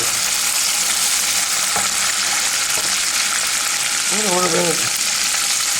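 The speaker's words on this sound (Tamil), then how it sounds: "இது இப்போ தாளிக்க போகிறோம்" Steady loud sizzling of spices tempering in hot oil fills the clip, with a brief stirring clink near the end.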